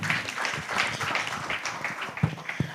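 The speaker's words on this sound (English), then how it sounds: "So, round of applause for him, please." Moderate applause from a crowd at a town hall in Lagos, a steady wash of clapping with a few louder individual claps standing out near the end.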